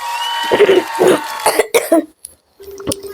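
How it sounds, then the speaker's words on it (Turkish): A person coughs several times in a row, harsh and close, in a quick uneven cluster followed by a brief pause and another cough. "öksürüğüm çok var ya."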